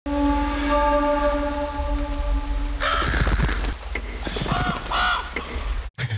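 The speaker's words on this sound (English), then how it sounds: "Awesome how the crow is just following him around." A crow caws repeatedly in a scene from the 1994 film The Crow, harsh calls following a sustained tonal drone under a low rumble, fairly loud and up close.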